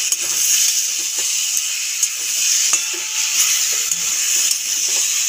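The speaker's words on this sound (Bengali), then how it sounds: "লাল লাল করে ভাজা হয়ে এসছে প্রায় আলু আর কাঁচা টমেটো" Potatoes and green tomatoes fry in a pan with a steady bright sizzle, broken by occasional clicks and scrapes of stirring, close and continuous with no talking.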